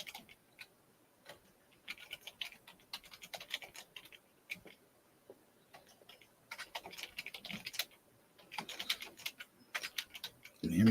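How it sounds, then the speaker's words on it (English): Quick, irregular clicking of keys on a computer keyboard during a live auction, coming in bursts with short pauses, fairly quiet and close, with no talking. "Can you hear me typing?"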